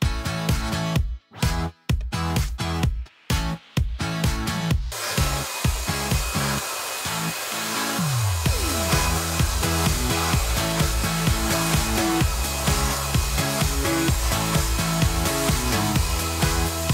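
A vacuum cleaner running over a rug during a house decluttering clean, loud and continuous with a steady whine, broken by several quick cut-outs early on before settling into an unbroken drone.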